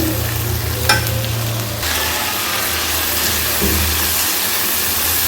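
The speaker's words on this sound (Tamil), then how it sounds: "இப்போ வந்து நம்ம பொடியாக கட் பண்ண 2 தக்காளியை சேர்த்துக்கலாம். சேர்த்து நல்லா கலந்து விடுங்க." Chopped tomatoes stirred into softened onions in a pan, giving a steady close sizzle and hiss with a brief clink of stirring near the start; no one speaks.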